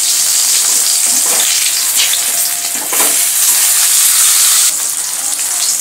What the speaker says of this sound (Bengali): মাছগুলোকে তেলের মধ্যে দিয়ে দিয়েছি, এবার মাছগুলো ভালোভাবে ভেজে নেব।